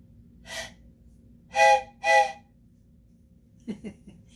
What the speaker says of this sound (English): this is a whistle. Whistle. Special whistle